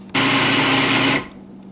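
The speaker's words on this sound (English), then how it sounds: "I'm going to pulse it in my food processor because you want it fairly fine" A food processor gives a single short pulse, about one second long, chopping ham with onion and pepper fine for ham salad. The whir is loud and close, then cuts off cleanly.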